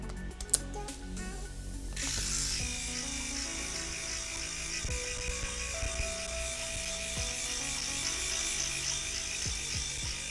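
Freedom Grooming buffer pad accessory switched on after a click, then running steadily with a constant electric motor hum and buzz, close and moderately loud, with small handling knocks.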